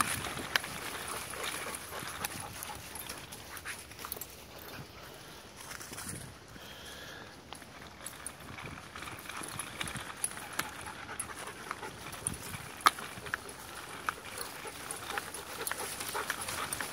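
Dogs panting steadily for a long stretch, close and continuous, with small whimpers and a few faint calls of encouragement from a person now and then.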